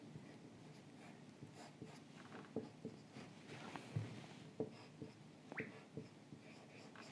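Faint marker or chalk strokes on a board during an engineering lecture, with scattered soft taps and scratches in a quiet room and no clear speech.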